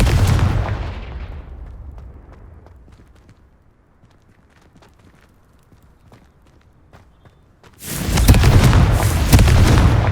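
Confringo blasting spells in the Hogwarts Legacy video game: loud bursts of explosive noise open and close the passage, with faint scattered clicks and taps in the quiet stretch between.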